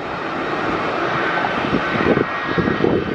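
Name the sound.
jet airliner passing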